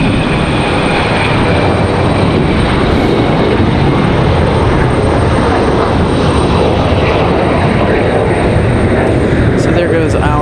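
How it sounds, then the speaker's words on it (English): Boeing 717 jet airliner bound for Detroit roaring loudly and steadily through its takeoff at Raleigh-Durham International, a dense broadband engine rumble that holds strong across the whole stretch, with a voice talking faintly underneath. "There goes our 717 back to Detroit, if I'm not mistaken."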